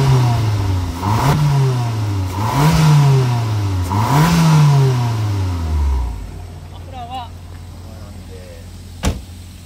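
A Daihatsu Mira Gino carrying a swapped-in K3-VET engine revs three times in quick succession, each rise climbing and falling back, before the engine settles to a low idle while faint mechanical clicks follow.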